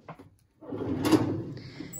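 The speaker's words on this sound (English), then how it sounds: "Yeah, that's my writing utensil drawer." A classroom writing utensil drawer slides open or shut: a faint tap, a short pause, then a close, soft rolling scrape with a light clatter of contents inside.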